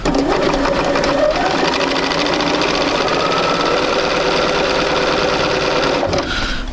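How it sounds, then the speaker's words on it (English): A sewing machine runs continuously while stitching a quarter-inch seam on a quilt sampler block, a loud, fast, even mechanical whir close by, easing slightly near the end. "I'm just going to sew my 1/4 of an inch."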